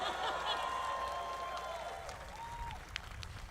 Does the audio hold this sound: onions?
no